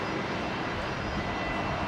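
An airliner takes off from runway 19 right at Brisbane International Airport, its engines giving off a loud, continuous broadband roar that holds steady throughout.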